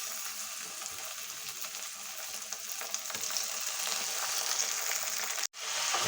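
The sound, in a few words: tomatoes frying with sautéed onions in a pan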